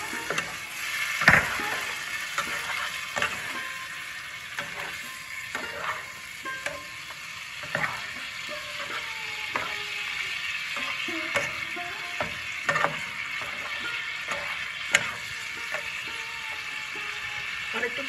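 Potato curry for aloo dum is stir-fried in a pan after a splash of hot water. A steady sizzle sits under repeated scraping strokes of a spatula, spaced unevenly, with an occasional sharp knock against the pan.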